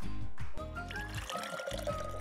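Liquid pours in a steady trickle with a faint splash as it fills a container during a children's cooking lesson, with background music over the sound and no speech.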